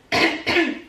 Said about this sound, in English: Do you have a cough?